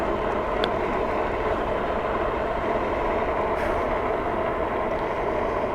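A large train rolls past nearby, a steady, dense rumble and rattle that holds at the same loudness throughout, heard from someone riding on the road with a brief higher squeal near the start.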